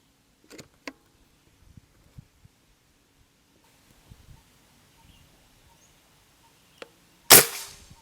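Quiet outdoor stillness with scattered small clicks and taps, then one sharp, loud PCP air rifle shot cracks near the end.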